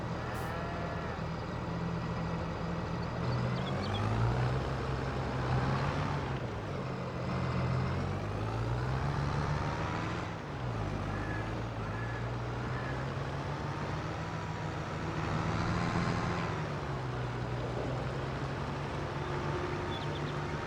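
Steady, loud drone of a high-powered farm tractor of nearly 200 horsepower idling close by, with a low rumbling tone that rises and falls slightly in pitch throughout.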